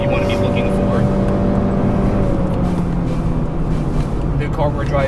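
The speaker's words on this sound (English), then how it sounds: "The car we're driving right now is a 9th generation Honda Civic Hybrid" Steady engine and road drone from a 9th generation Honda Civic Hybrid driving a canyon road, a continuous close hum under speech throughout.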